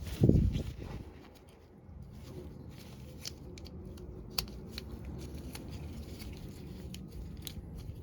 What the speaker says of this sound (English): we can just get the connector out and cut the wiring to it